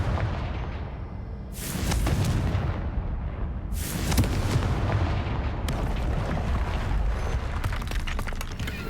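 A Confringo blasting spell goes off in the Hogwarts Legacy game: three loud, booming bursts with broad crackling tails, spaced a few seconds apart and layered over a steady rumbling background, with no one speaking.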